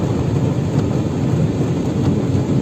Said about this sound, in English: It's all rain.